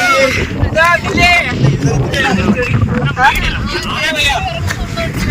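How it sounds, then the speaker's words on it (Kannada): Loud gusty wind rumbling across the microphone on Netravathi Peak, with people talking underneath throughout. "ಏನೋ ಇದು ಗಾಳಿ"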